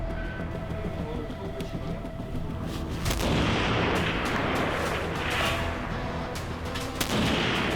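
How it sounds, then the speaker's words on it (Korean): Sniper rifle fire at a 500 m upper-body steel target during military sniper training, sharp loud reports over a rumbling outdoor background, with a few distinct shots. "지금부터 원거리 500m 상반신 스틸 타켓 사격 실시하겠습니다."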